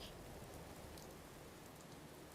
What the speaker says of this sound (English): it's a rainy day in Fallout